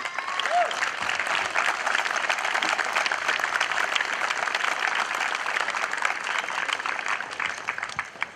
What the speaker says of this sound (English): Please join me in another round of applause for our Hillsborough veterans